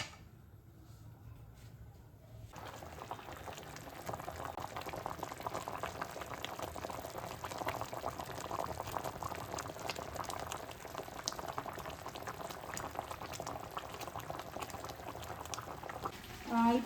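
Basmati rice boils in a pot, giving a steady bubbling, simmering roar that rises after a quieter start and carries on evenly throughout.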